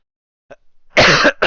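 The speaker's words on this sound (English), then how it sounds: "Sorry for the cough." A brief soft throat noise, then two sharp, loud coughs in quick succession, close to the microphone.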